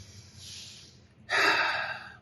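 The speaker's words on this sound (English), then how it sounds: "Take a deep breath." A person takes one deep breath up close: a soft, airy inhale swells, then a louder, rushing breath follows, with no words.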